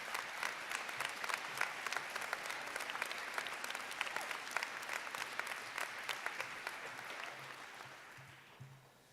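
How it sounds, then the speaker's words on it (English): Sustained applause from a crowd at a state championship celebration, dense and steady clapping that gradually fades out at the end, with no talk over it. "Big round of applause. State champs."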